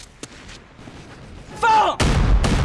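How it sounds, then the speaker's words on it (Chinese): A field artillery cannon fires during a battle scene in a war film. A quiet stretch and a brief tonal whine give way to a sudden loud, booming blast that fills the last moments. "继续开炮，不能给共匪任何喘息的机会"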